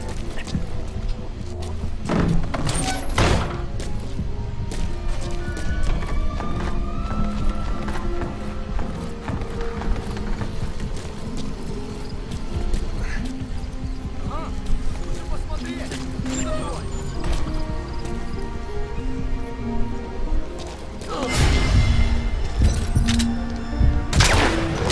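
Horse hooves gallop in Metal Gear Solid 5 The Phantom Pain, a steady clip-clop rhythm running under game music and spoken dialogue, with bursts of louder noise near the start and end.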